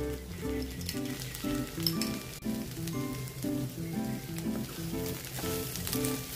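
Ghee sizzles in a hot pan of drumstick greens as a moringa leaf dish cooks, a steady crackling fry running the whole time beneath background music.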